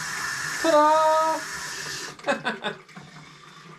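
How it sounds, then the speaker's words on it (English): Water gushes from a newly connected tap in a house under construction, a steady hiss for about two seconds before shutting off, with a voice speaking briefly over the start and afterward. "We have running water."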